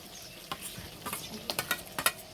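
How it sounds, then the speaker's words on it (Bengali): Coriander paste is stirred into a simmering chicken curry, heard as a quiet, low sizzle broken by a handful of sharp spoon scrapes and clicks that come faster toward the end. "এবার দেবো ধনেপাতা বাটা"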